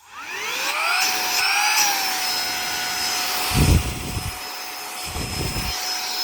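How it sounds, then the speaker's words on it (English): Saker mini handheld vacuum cleaner running as an air blower, a steady high-pitched motor whine that ramps up as it starts and holds a constant tone, with brief bumps of handling noise partway through. "So now all of a sudden, this is sucking air,"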